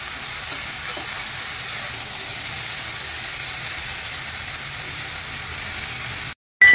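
Vegetables cooking in a pan with salt while being stirred, a continuous even sizzle close by with no talk, cutting out briefly near the end.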